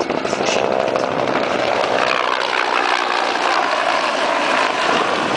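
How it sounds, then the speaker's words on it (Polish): A loud, continuous roar of a Cobra attack helicopter's engine and rotors fills the scene, steady and close, with no voices over it. "Ten śmigłowiec przyleciał do nas z Austrii."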